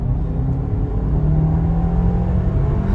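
A 2021 Audi Q5e accelerates hard on the highway, its steady low rumble and whirring road drone holding loud and constant throughout, with no one speaking.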